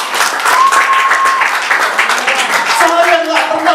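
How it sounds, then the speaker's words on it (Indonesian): Church congregation applauding at a Sunday worship service, a steady dense wash of clapping that fills the whole stretch, with a sustained tone and some voices mixed in toward the end. "Tepuk dulu buat saya."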